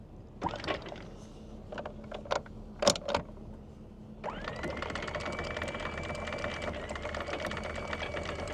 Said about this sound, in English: we're going to up the anchor here